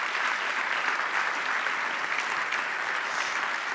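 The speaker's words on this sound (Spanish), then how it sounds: "yo creo que también se merece un aplauso por compartir su arte y su tiempo con nosotros" A gala audience at an annual members' meeting applauding an artist, dense even clapping that holds steady for the whole stretch with no break.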